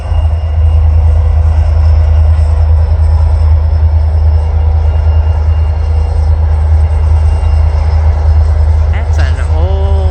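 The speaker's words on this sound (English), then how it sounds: "That's an old engine car." An old train engine passing near a botanical garden, giving a loud, steady low rumble that holds for the whole stretch, with a brief higher squeal or horn-like tone near the end.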